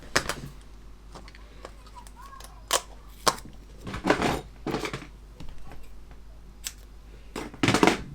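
Masking tape for model rivet lines is cut with a series of sharp, isolated snips and clicks. Some land close and crisp, others are softer, with quiet pauses between them.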